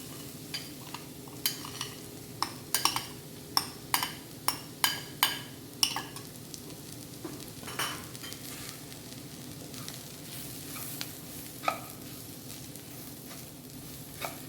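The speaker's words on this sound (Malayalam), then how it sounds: "മസാലക്കൂട്ടും ചേർത്ത് നന്നായി ഇളക്കുക." Ground masala mixture sizzles in hot oil in a pan for a chicken greenvalley curry, with a steady hiss under a quick run of scraping spoon strokes that slow and thin out toward the end.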